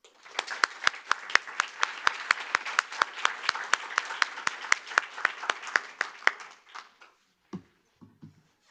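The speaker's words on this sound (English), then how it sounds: "please join me in a big applause" A crowd applauds steadily for about seven seconds, dense clapping with sharp individual claps, then it thins out and stops, leaving a few faint scattered sounds.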